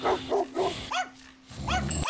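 Dogs in the Robbery Bob 2 video game bark in quick repeated yips and bow-wows, several close barks in bursts over a faint steady background tone.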